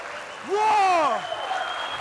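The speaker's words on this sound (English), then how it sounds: "We see the crowd coming alive." A crowd at the Evgeny Prudnik vs Davit Dadikyan arm wrestling match cheers, with one loud rising and falling shout standing out above the noisy din.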